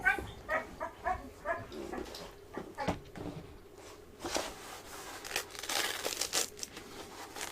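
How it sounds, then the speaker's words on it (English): Dogs bark outdoors, picked up by a camera set outside: a quick run of sharp barks at first, then scattered faint yelps and rustling at a distance. "so as you can hear, the dogs are on their way out"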